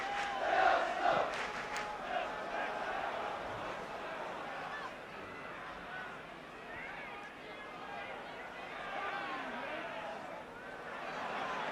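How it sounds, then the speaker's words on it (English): A 1977 football crowd at Highbury stadium gives off a constant distant murmur and roar, with a commentator talking over it and a brief louder swell near the start. "In spite of the closeness of Christmas, really a very good crowd here at Highbury today"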